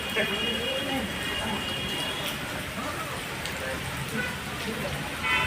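Continuous heavy thunderstorm rainfall over crop fields in Dharashiv district, Maharashtra, pours down in a broad, unbroken hiss, with occasional louder patters standing out near and far.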